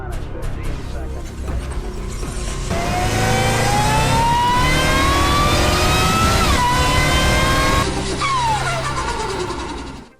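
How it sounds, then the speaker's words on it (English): A Cadillac CT5-V Blackwing's engine revs hard and loud up close, its pitch climbing steadily through the gears with a brief dip at a shift, then the note falls away as the car backs off and fades. "That is a Cadillac CT5V Blackwing, one of the baddest cars on the market."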